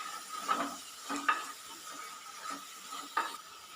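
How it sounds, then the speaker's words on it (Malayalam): Onions with turmeric are stirred in a frying pan, with a handful of soft, separate scraping strokes over a quiet, steady sizzle. The sound is close and gentle, with no voices. "ഇനി പച്ചമണം പോകുന്നവരെ ഒന്ന് ഇളക്കി കൊടുക്കാം."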